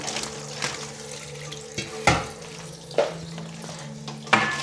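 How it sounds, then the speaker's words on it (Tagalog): Shrimp being washed for okoy, with water running and splashing in a bowl and several louder knocks and clatters from handling spaced through. "bali hugasan lang natin itong ating hipon"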